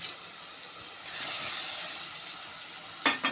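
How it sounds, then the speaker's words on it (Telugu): Ginger garlic paste fries in a pan with a steady, bright sizzling hiss that swells briefly partway through, then settles, with a small clatter near the end. "పచ్చివాసన పోయేంతవరకు వేయించుకోవాలి."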